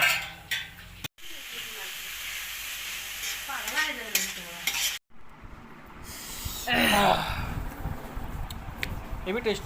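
Papaya bhaji being stirred and fried in a pan in a village kitchen, with steady sizzling and scraping strokes interrupted by two brief pauses, while someone talks over the cooking.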